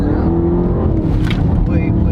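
Race car powering out of a corner at the Bondurant driving school track, loud engine drone under load, with an instructor talking over it throughout.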